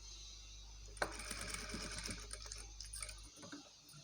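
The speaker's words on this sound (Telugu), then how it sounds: "టర్నింగ్ దగ్గర కొంచెం స్లోగా స్టిచ్ చేయండి" A sewing machine stitches a blouse neck design with a quick, rapid clatter that starts abruptly, runs steadily for about two seconds and then tapers into lighter ticking sounds.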